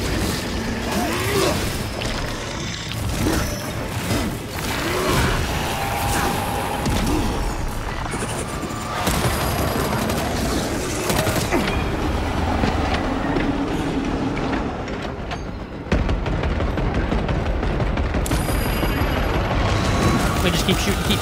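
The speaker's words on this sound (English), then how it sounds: "We just keep shooting, keep shooting, keep shooting." Sustained gunfire in Warhammer 40K Space Marine 2, a dense, continuous rattling barrage of shots and impacts blending with loud battle noise, with a voice talking over it throughout.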